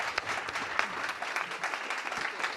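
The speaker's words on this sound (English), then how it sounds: "A warm round of applause." Steady, dense applause from a university event audience, a continuous wash of many hands clapping at moderate volume throughout.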